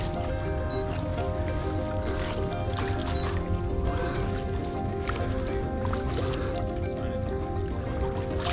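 A sailboat moves through open water with a steady wash of water and wind around the hull and rigging, a continuous rushing bed of sound with faint creaks and splashes, no clear talk.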